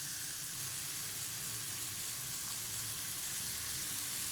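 Spiced chicken pieces with onion and capsicum sizzle in a hot pan, giving a constant, even hiss with no breaks and no talking.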